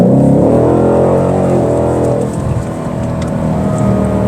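A 2023 Ford Mustang GT Premium V8 in sport exhaust mode roars loudly up close, a deep rising rev that peaks and then drops back into a rumbling, burbling idle.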